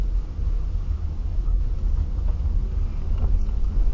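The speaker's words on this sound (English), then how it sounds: "There's a little bit of road noise." Steady road and tyre rumble inside a moving 2008 Toyota Camry Hybrid cruising on a quiet road, a continuous low wash of cabin noise with no voices.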